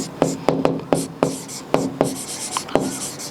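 Pen strokes on paper at close range during a Class 10 trigonometry lesson, a series of sharp taps and scratches in an irregular rhythm, heard alone without speech.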